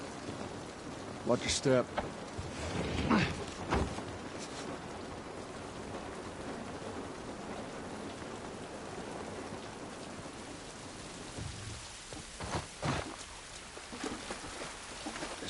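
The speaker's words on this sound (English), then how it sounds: "This rain ain't gonna do us any good." Rain falling outdoors, a steady soft hiss throughout, with footsteps, brief voices and a few sharp knocks and thuds over it near the start and again toward the end.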